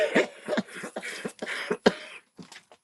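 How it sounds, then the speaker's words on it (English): Repeated coughs and throat-clearing bursts, close and fairly loud, come in an uneven series of sharp hacks with brief pauses between them and no talking. "I'm just gonna cough the whole time."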